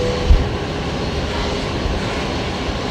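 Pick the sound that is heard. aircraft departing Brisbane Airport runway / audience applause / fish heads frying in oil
aircraft departing Brisbane Airport runway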